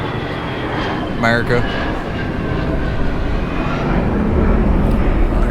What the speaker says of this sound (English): We got some jets flying over